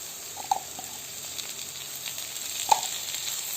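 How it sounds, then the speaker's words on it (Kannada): Onions frying in a pan with ginger garlic paste, a steady close sizzle with a few sharp pops and crackles throughout. "ಈಗ ನೀರುಳ್ಳಿ ಸ್ವಲ್ಪ ಫ್ರೈ ಆಗ್ತಾ ಬಂದಿದೆ"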